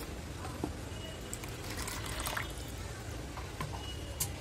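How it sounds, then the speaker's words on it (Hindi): Water is poured into a ginger-mint raita made with a ground ginger-mint paste, giving a soft, steady trickle close to the bowl with faint kitchen background. "इसमें पानी डालेंगे"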